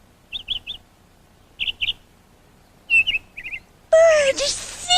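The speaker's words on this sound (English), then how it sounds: "Bird" Bird singing in a cartoon: short, bright chirps in twos and threes with pauses, then a longer trilling phrase, and a louder, harsher burst of sound near the end.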